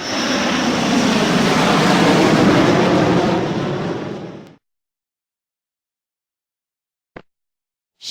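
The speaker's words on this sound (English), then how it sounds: "Airplane." An airplane's engine roars loud and steady for several seconds, then cuts off abruptly into silence, with a couple of faint clicks after.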